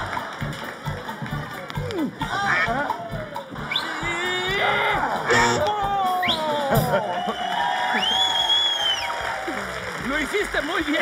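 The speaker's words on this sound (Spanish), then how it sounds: "¡Venga, el aplauso para mi público!" A studio audience at a Spanish-language late-night talk show claps and cheers in a steady wave that swells and holds, while a host talks loudly over it.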